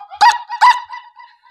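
A person's voice imitates a hen's warning call to her chicks, two loud honking squawks close together followed by softer trailing clucks, alone and nearby.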